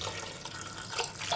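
Water pours from a glass into a cooking pot of chana gosht with meat, spices, ginger-garlic paste and onion, a steady splashing, running-water sound heard close and alone for about a second.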